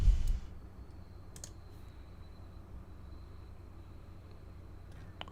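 A computer mouse gives a few sharp, quiet clicks spread apart over a low hum of room noise, after a brief louder bump at the start.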